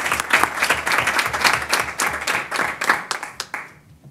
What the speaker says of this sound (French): Oui, une bonne main d'applaudissements pour eux aussi.